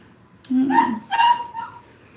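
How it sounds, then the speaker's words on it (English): A dog gives two short, close barks with a whiny, yelping edge, the second following about half a second after the first, then trailing off into quiet. "right as the dog barked"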